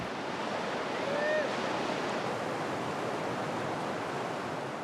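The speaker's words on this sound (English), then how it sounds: "Today, the river has the fury of a mountain torrent." The swollen Rio Grande river rushing with torrent force after mountain rains in New Mexico, a loud, constant broadband roar of churning water, steady throughout with a faint whistle-like call briefly above it.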